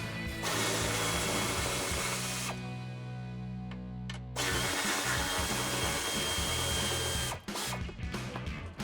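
Power tool driving out bumper bracket bolts with a 16mm socket on a Jeep Wrangler JL: loud continuous whirring runs through, dipping briefly as it spins down, then resumes at full pitch with short stops near the end.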